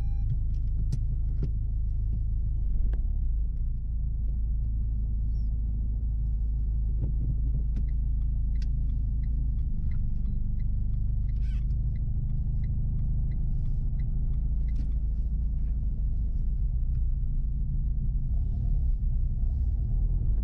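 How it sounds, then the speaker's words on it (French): Car restarting and pulling away into traffic during a driving test, with a steady low engine rumble up close and a few light clicks and rattles inside the cabin. "Vous allez pouvoir redémarrer donc le véhicule et on va repartir en circulation"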